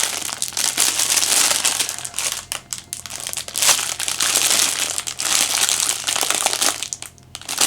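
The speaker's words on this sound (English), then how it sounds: "let's go ahead and unwrap this real quick" Plastic wrapping is pulled off an accessory for an Asus ROG Flow Z13 gaming tablet, loud close crinkling and crackling in continuous bursts with short pauses, no voices.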